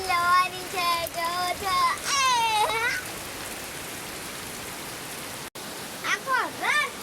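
Heavy rain pours down on a flooded road with a steady, dense hiss, while a voice speaks intermittently over it.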